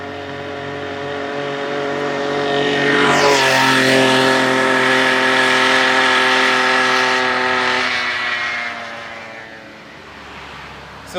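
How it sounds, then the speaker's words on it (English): A Golden Eagle pedal-assist engine on a Cannondale Badboy bike buzzes with a high, harmonic motor whine that swells as the bike approaches, peaks close by, then drops in pitch and fades as it rides away. "This is a pedal assist engine."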